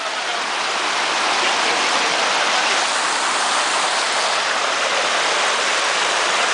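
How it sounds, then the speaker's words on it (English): Fast river water rushes over rocks at a river crossing on Utopia Pass, a loud, continuous broadband roar close by with no breaks and no voices. "Water are quite fast coming down."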